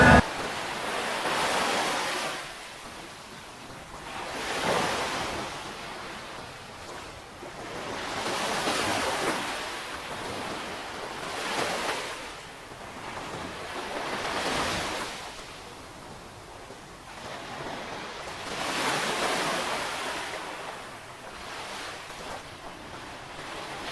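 Sea waves at Calilayan cove in Unisan, Quezon province, surging in and washing out in slow repeating swells about every four to five seconds, with steady wind noise over the shore and no voices.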